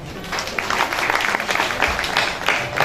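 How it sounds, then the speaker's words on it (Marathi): Audience at a golden jubilee kirtan event applauding, dense steady clapping throughout the short stretch with no voices over it. "थोडंसं टाळ्या वाजवा"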